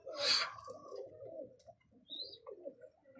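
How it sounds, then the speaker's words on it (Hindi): Pigeons in a loft give soft, intermittent coos nearby, with a brief higher chirp or rustle between them, faint overall. "कबूतर ज्यादा कर रहे प्यार"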